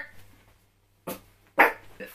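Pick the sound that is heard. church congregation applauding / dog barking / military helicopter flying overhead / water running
dog barking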